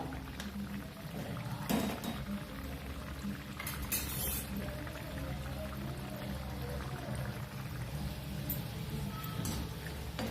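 Vadas deep frying in oil, a steady close bubbling sizzle running throughout, punctuated by a couple of brief clinks from a utensil, with no talking.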